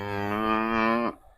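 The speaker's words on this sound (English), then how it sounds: "Good cow, good cow." A single cow lets out one loud, close, sustained moo lasting about a second, then cuts off abruptly into quiet farmyard background.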